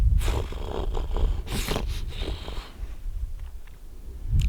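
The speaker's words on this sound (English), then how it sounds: "I better quit snoring like that when I take these afternoon naps" A man napping outdoors on a British Columbia caribou and moose hunt snores loudly up close. Several rough, rasping breaths rattle and snort in an uneven rhythm.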